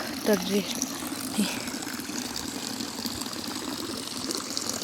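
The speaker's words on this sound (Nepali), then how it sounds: "ए पानी चाहिँ राम्रै आउँदैछ रहेछ।" Water runs from a pipe fed by a tank after the blocked pipe has been cleared outdoors. It makes a steady, close rushing hiss throughout, while a voice talks over it.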